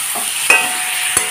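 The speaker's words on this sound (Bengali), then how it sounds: "এখন ভালো করে মশলাটার সাথে কষিয়ে নেব।" Fried potatoes are stirred through a sizzling spice paste for an egg and potato curry, with two or three quick scraping strokes over a soft fry.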